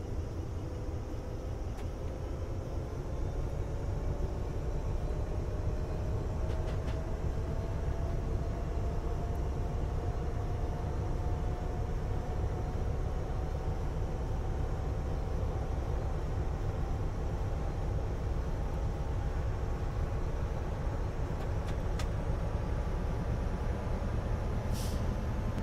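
A small Metropolitan Line train in Train Simulator Classic runs with a steady, loud low rumble and a faint rising motor whine, with a few brief clicks near the end and no talking.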